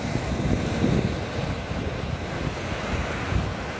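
Shallow ocean waves wash in along the shore at a fishing spot, a rough continuous surf rumble with gusts of wind buffeting the microphone and occasional swells rising, no speech.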